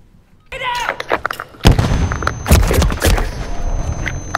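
A shotgun firing in a video game, with several booming blasts and gunfire layered over a busy mix of game effects, loud and close.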